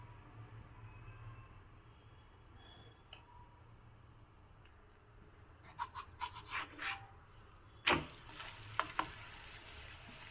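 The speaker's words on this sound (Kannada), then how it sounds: "ಇವಾಗ ತವಾ ಬಿಸಿಯಾಗಿದೆ ನೋಡಿ ಇದಕ್ಕೆ ಹಾಕ್ತಾ ಇದ್ದೀನಿ ಪರಾಟವನ್ನು ಮೇಲಿಂದ ತುಪ್ಪವನ್ನು ಹಾಕ್ತಾ ಇದ್ದೀನಿ" Paratha laid on a hot tawa with ghee drizzled over it gives a soft, steady sizzle, joined near the end by a few sharp scraping and tapping clicks from the pan.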